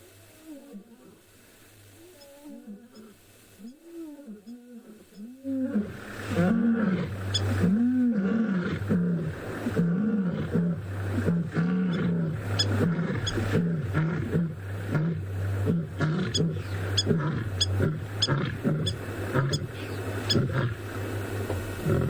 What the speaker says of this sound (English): There is nothing like a roar of a lioness or a lion.